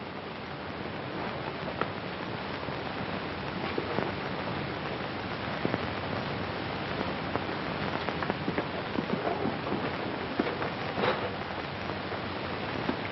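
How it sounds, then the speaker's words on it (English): Steady rain falls and patters on surfaces, a dense, even hiss with small drip accents, continuous and fairly close. "The rain ought to let up soon."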